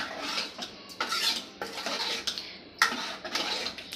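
A spoon stirs palak bhaji in a pan, giving a series of close metallic scrapes and clinks in uneven strokes, with no talking.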